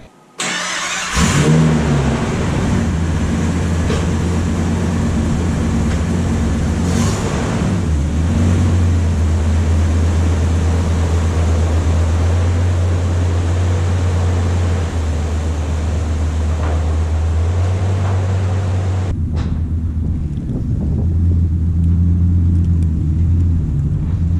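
An old blue truck's engine starts and then idles steadily outdoors, a loud, close, continuous rumble with slight changes in revs, cutting to a quieter idle near the end.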